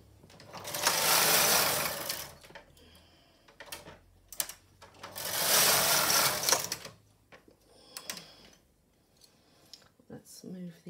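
Silver Reed SK155 chunky knitting machine working a Fairisle pattern: two long rasping carriage passes sweep across the needle bed, separated by clicks and small mechanical knocks, close and loud.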